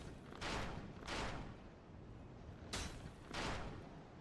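Enemy gunfire in a video game, shots coming in pairs: two broad, fairly loud bursts early, then after a pause another two, each a wide noisy crack with a short tail over steady background noise.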